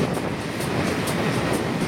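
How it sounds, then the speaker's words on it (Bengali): Lachit Express train running at night just after pulling out of Cement Chapari station, a steady broadband rumble and rush of wheels and wind with faint periodic clicks, continuous and fairly loud throughout. "রাত 9:17 ট্রেন সিমেন্ট চাপাড়ি স্টেশন ছেড়ে তার পরবর্তী গন্তব্য শিলাপাথর রেলওয়ে স্টেশনের উদ্দেশ্যে রওনা হল।"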